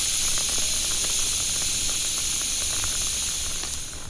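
A pressure cooker on a traditional desi clay stove, cooking guvar gatta sabzi, lets off a loud, continuous, close steam hiss with a shrill whistling edge that holds steady for several seconds before easing slightly at the end.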